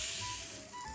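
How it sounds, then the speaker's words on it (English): A burger patty sizzles in a hot pan, a steady bright crackling hiss that fills the whole moment, close and even. "Oh, that sound of sizzle though."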